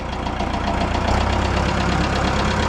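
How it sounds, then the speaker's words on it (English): A Minneapolis Moline Jet Star 3 tractor engine idles steadily up close, a continuous low rumble with a faint rhythmic knock running through it. "It goes away once the oil gets up there, or at least it sounds better at a higher idle."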